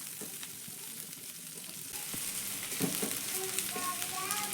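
A large chopped onion sizzles in hot oil in a pan, a dense steady frying hiss that grows louder midway, with faint stirring clinks and no talk.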